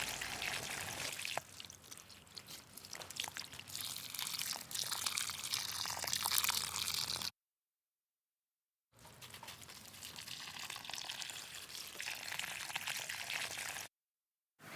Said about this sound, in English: Now it's just time to water it in.